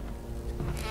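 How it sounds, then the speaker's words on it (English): Swarm of bees in the Resident Evil Remake game, a dense, continuous droning buzz that fills the short moment, close and steady with no voices. "Bees. My God."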